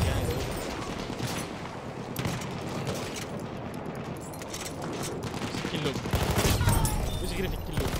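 SMG gunfire in a Battlefield 1 match, steady rapid rattling shots mixed with distant battle noise and occasional booms, sustained and dense throughout.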